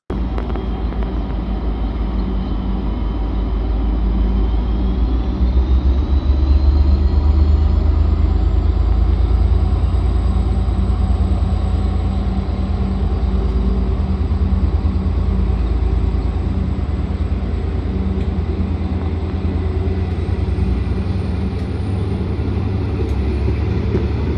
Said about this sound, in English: Let's watch the train depart quickly